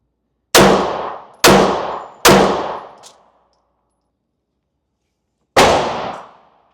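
Four sharp, loud Sig Sauer P320 Flux Legion pistol shots fired at a range, three in quick succession then a pause of about two and a half seconds before the last, each with a decaying echo.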